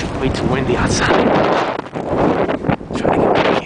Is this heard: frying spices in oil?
no